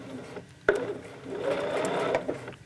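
A sewing machine stitches quilting fabric in quick, close, even bursts. A sharp click starts the run, a brief pause follows, then a sustained whirring run of stitching.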